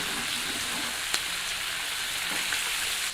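Chili peppers and cured pork stir-frying in a hot wok give a steady, moderately quiet hiss with faint crackle and one sharp tick, even and continuous throughout.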